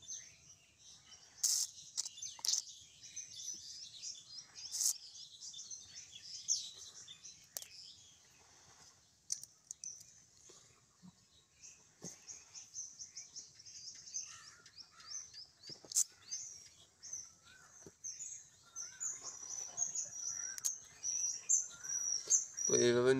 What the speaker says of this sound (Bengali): আমি 2টা পাখি নিয়ে আইছি, তো 2টা পাখি আপনাদেরকে দেখাবো।